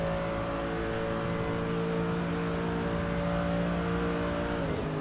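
A race car with an RSS mod in ACC strains uphill through the Nordschleife, its engine holding a steady, loud, droning note alone with no talk until the pitch dips sharply near the end.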